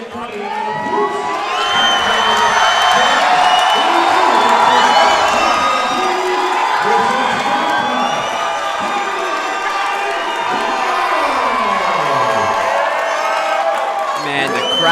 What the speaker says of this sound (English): Man, the crowd is so crazy for Michael White that you could not hear the announcer say his nickname.